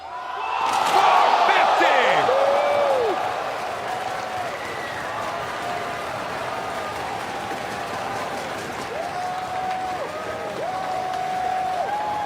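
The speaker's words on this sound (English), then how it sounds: "And the capacity crowd, the sold-out crowd here at the Lakeland Center, on their feet" A sold-out capacity crowd at the Lakeland Center wrestling event roars and applauds, loudest at the start and then settling into a sustained cheer, while a commentator talks over it.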